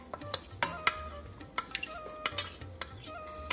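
A utensil repeatedly scrapes and taps against a frying pan in an irregular rhythm while spices roast with a soft sizzle underneath.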